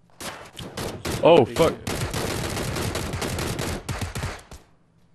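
Gunfire crackles through a PUBG match as dense rapid bursts of shots ring out for several seconds, loud and sustained with brief gaps, while a player swears and talks over it.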